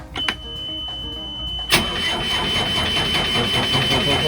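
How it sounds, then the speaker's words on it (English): An old diesel engine, 35 years old, is cranked after a repair: a couple of sharp clicks and a steady tone, then it catches abruptly and settles into a loud, rough rhythmic running. "Let's try starting the engine."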